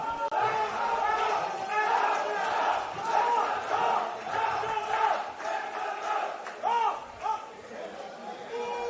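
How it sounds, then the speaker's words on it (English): Spectators at a National Premier League Victoria football match between Heidelberg United and Dandenong City cheer and roar after a goal, with loud shouting and whistling in rising waves and chatter beneath. "As the crowd rises to their feet"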